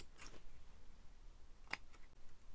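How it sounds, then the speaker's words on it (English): Scissors snip once at paper while making a budget paper doll craft; a single short, crisp cut stands out close up against a quiet background, with a faint rustle just before it. "Snip a bit off"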